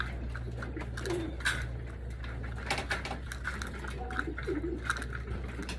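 Racing pigeons being readied for a training race coo in soft, repeated low calls close by, with wing flutters and light tapping over a steady low hum.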